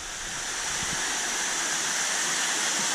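Water runs steadily down through an aquifer behind a curtain into a 50-foot-long fish tank filtration system, a continuous even rushing with no breaks.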